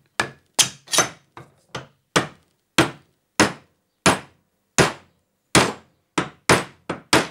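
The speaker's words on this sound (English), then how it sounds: "instead of a steel-faced hammer, I'll grab a soft-faced hammer on the plastic end, so I don't damage the flat threaded end" A soft-faced hammer strikes a steel shaft into a bearing block of a small hydro turbine, about fifteen sharp knocks in an uneven rhythm, close and clear with no talk.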